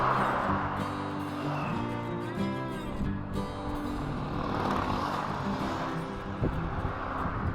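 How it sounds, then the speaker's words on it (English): Motorbikes on the NH2 highway give a steady, loud engine drone with a rising and falling tone as they pass close by, and traffic rumble runs underneath. "we have some bikers over here on this NH2"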